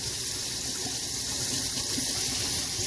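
Cut French fries are rinsed under a running kitchen tap, a steady close gush of water splashing into a sink without pause.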